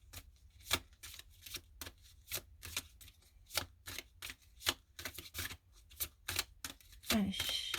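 Tarot cards shuffled and laid down in a steady run of crisp riffling slaps and snaps, close and fairly quiet, with no talking.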